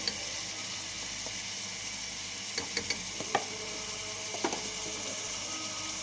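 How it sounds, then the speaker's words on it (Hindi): Ginger garlic paste frying in a pan for kaleji masala, a steady soft sizzle throughout with a few light clicks and taps of a spoon stirring. "इसको अच्छी तरीके से भून लेंगे ताकि इसकी बदबू ख़त्म हो जाए।"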